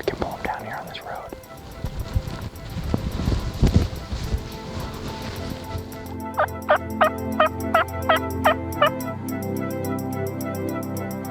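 Wild Merriam's turkeys answering during a bow hunt, a rapid series of about six gobbles in quick succession after some rustling and soft whispering nearby.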